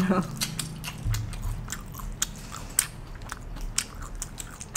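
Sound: biting and chewing fried banana with cheese filling

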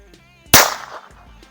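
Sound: Aguila .22 round fired from Beretta 21A pistol

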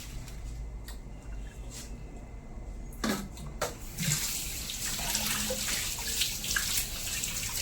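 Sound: washing fish under running water

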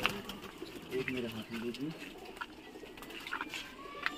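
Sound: kalsire pigeons cooing

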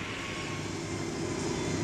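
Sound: aircraft taxiing at Schiphol airport

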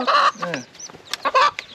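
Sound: chickens clucking

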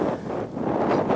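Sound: wind blowing outdoors

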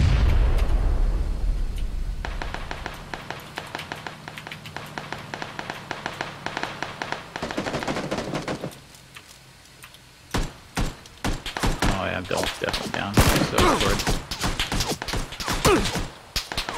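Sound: gunfire from a video game

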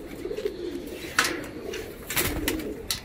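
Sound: black Malwai pigeons cooing

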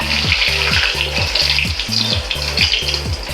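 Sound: two eggs frying in a pan

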